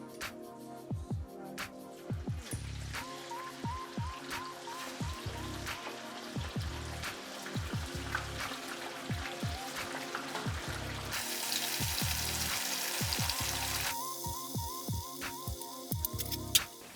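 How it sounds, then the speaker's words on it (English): Sliced beef frying in deep hot oil gives off a soft, continuous bubbling crackle, with a steady stream of small pops and spatters at low volume that grows brighter and hissier toward the end. "I place the sliced meat into deep hot oil when the meat starts to bubble in the oil"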